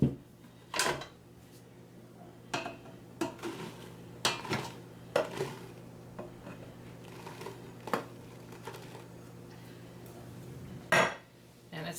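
Six cups of powdered sugar are mixed in a bowl into a dry mixture for chocolate cherry mice, with scattered clinks and scrapes of a utensil against the bowl over quiet stirring.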